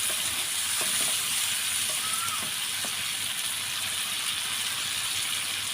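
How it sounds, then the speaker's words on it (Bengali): Dried fish and drumstick pieces sizzle steadily in spices in a pan, with a few scraping stirs near the start and no talking over the cooking. "আমি কিন্তু হচ্ছে এটা নেড়ে চেড়ে দিচ্ছি আমি আরও অল্প একটু সময় হচ্ছে আমি এটাকে এই মশলাতে কষাবো"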